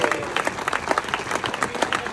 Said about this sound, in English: But thanks for the applause.